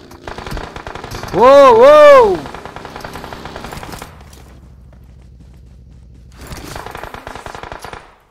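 Rapid automatic gunfire in a GTA roleplay game crackles in dense bursts at the start and again near the end, with a voice shouting over the first burst and a low steady rumble filling the lull between.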